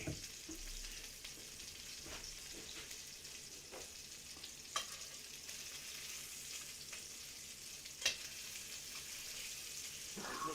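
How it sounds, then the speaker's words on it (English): Swedish meatballs brown in a hot frying pan, giving a quiet, steady sizzle with occasional scrapes and clinks of a utensil turning them; no one speaks. "Make sure they get browned up on all sides here."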